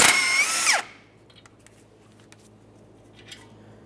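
A power tool whirs briefly, loosening the 21mm tie rod end mounting nut on a 2004-2008 Ford F-150, a loud high whine under a second before it winds down, followed by faint clicks and quiet shop ambience.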